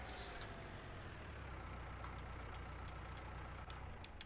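Stara tractor engine in Farming Simulator 19, a loud, steady rumbling drone that runs unbroken throughout, with faint hissy clicks above it and no talk.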